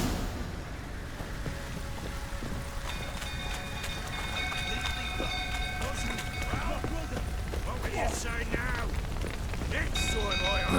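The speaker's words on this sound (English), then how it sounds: "Looks like rain." Rain hisses steadily in the Witcher 3 video game, mixed with rumbling game ambience, clanking and tonal chimes; the bed of sound grows gradually louder toward the end.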